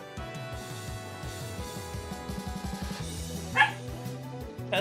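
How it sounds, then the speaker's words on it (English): A dog barks a few times in a short sharp burst partway through, standing out over steady background music and game sounds. "why are you barking?"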